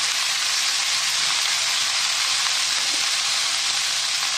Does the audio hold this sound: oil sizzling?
yes